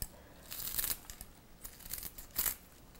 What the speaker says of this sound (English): I'll just take my scissors and chop this up like this.